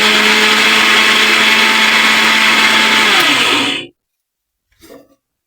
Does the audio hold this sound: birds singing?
no